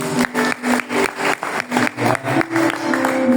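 Rhythmic clapping for birthday celebrants during a GSJA church worship service, steady beats repeating about every third of a second over a sustained musical tone.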